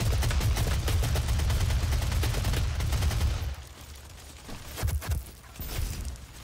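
Rapid chain gun fire in a DOOM online team deathmatch, a loud continuous burst of dense automatic shots for about three seconds, then scattered quieter shots and game noise.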